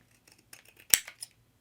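Scissors cut a paper tag with a few soft snips leading to one sharp, distinct clip, then a lighter snip, close and quiet with no talking.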